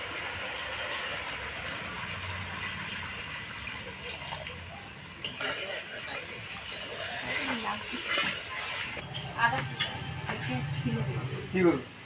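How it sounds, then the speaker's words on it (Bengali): Water poured into a hot pan of mustard spice paste while cooking shukto, giving a steady hissing sizzle with bubbling and stirring, and a voice talking over the cooking. "এবার আমি পরিমাণ মতো জল দিয়ে দেবো।"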